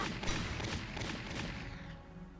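Sniper fire in the video game Valkyria Chronicles, a dense rattle of repeated gunshots at steady volume that thins out near the end.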